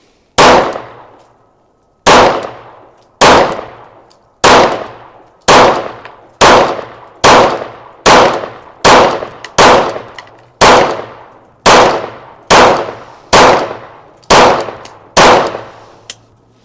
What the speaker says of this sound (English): let's get shooting, see if we can't get any better.